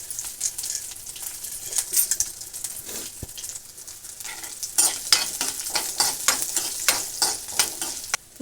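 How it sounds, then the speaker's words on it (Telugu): Urad dal and chana dal frying in hot oil sizzle steadily close up, with crackling pops and frequent spoon strokes stirring and scraping the pan. "మినప్పప్పు, పచ్చిశనగపప్పు వేస్తున్నా"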